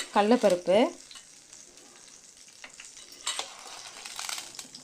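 Cumin seeds frying in oil, a low crackling sizzle heard close, with a few stirring scrapes and a brighter burst of spattering near the end; a brief voice-like sound opens the clip.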